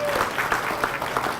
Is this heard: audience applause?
yes